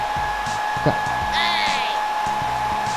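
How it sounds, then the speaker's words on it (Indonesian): A hair dryer blows steadily to inflate a unicorn pool float, a constant close whir with a brief higher whine midway as a voice speaks a word over it. "Bisa niup pelampung pakai hair dryer."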